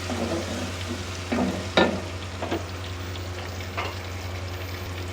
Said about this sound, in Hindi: चिकन डाल के इसको हमने 5 से 7 मिनट अच्छी तरह से भूनना है।